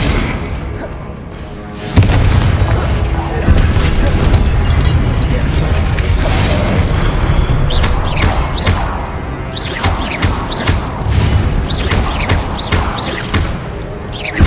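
Confringo blasting spell explosions in the Hogwarts Legacy video game on PS5, loud booming blasts and crashes over a dense, continuous battle din, with a string of sharp impacts toward the end and a voice shouting the spell.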